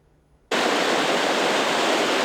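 The Milwaukee River flowing on a cold January day: after a half-second of near silence, a loud, steady, broadband rush of water begins abruptly and continues without a break.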